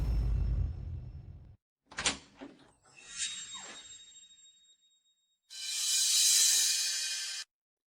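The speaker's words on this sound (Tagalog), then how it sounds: "Ako na ang magbubukas ng pinto." A house door is worked in a sequence of separate sounds: a low thud, a clack and latch rattle, and a rolling slide, followed by a long bright hiss. No one speaks.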